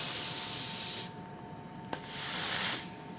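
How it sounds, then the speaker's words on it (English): Steam iron hissing as it presses fabric while sewing quilt star blocks: a loud, steady spray of steam, a pause with a sharp click, then a second long burst of hiss, with no talking. "At this point, you can use steam."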